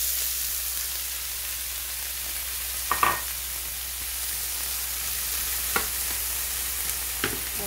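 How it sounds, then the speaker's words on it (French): Bell pepper sautéing in a pan: a steady, even hiss of frying close by, broken by a few brief scraping clicks of a utensil stirring. "On commence à faire revenir notre poivron."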